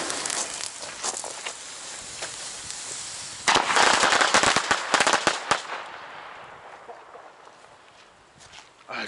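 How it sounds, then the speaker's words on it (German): A Cobra Minis firecracker chain goes off outdoors, starting with scattered pops and then erupting into a rapid, loud crackling burst of many bangs before thinning out to a fading hiss. "So, hier ist eine Knallkette von den Cobra Minis."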